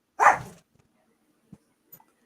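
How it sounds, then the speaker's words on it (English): A single short, sharp dog bark sounds close and fairly loud at the start, followed by near silence with a couple of faint soft knocks. "I'm going to mute him so we don't hear barking dogs"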